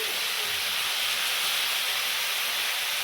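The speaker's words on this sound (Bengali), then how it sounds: "আর এইদিকে চিকেনটা একটু ভাজছি" Chicken frying in a pan of hot oil gives a steady, dense sizzle and hiss, loud and unbroken from start to finish, with no voices.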